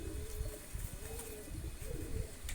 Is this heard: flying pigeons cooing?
yes